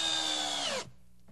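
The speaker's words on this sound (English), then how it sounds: "This time, notice how the screws literally drive themselves." A power driver spins an ACR Phillips II screw into wood with a steady high whine that winds down sharply after under a second, leaving near silence.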